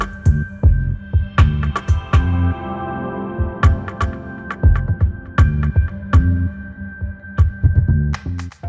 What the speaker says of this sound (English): double wall is formed by shaking both shells